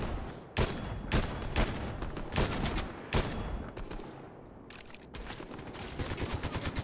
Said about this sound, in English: There's a guy over here somewhere shooting at us.